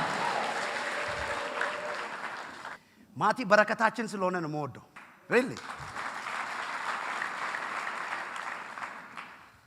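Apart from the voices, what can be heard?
congregation clapping, applause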